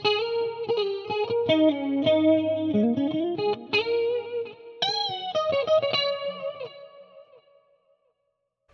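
Electric guitar played through a chorus effect with chamber reverb rings out in chords and single notes, shimmering, then fades to silence.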